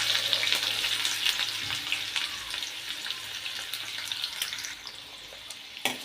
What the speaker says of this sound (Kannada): ಇವಾಗ ಈರುಳ್ಳಿ, ಹಸಿಮೆಣಸಿನ್ಕಾಯಿನ ಹಾಕ್ಕೊಳ್ಳೋಣ.